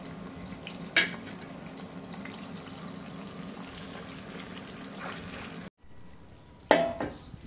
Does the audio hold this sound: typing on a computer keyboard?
no